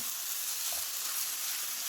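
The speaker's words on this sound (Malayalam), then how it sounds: "അരിയിട്ട് കൊടുത്ത് ഒന്ന് ചെറുതായി ഒന്ന് ഫ്രൈ ചെയ്തെടുക്കണം." Rice sizzles and crackles in a hot pan, a close, even hiss of frying with no voices.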